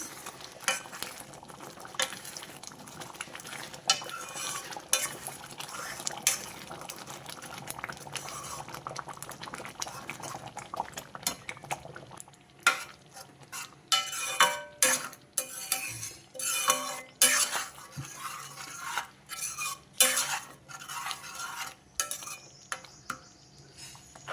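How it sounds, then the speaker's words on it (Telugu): A spoon stirs palak paneer curry bubbling in a pot, with a steady wet simmer that breaks into repeated scraping, clinking strokes against the pot in the second half, fairly quiet and close. "ఒకసారి కలుపుదాం కలుపుకుంటూ ఉండండి అడుగు అంటుతుంది మళ్ళీ"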